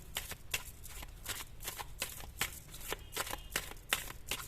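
A deck of tarot cards is shuffled over and over, giving soft, quick riffling bursts in a steady rhythm, close and fairly quiet, with no talking.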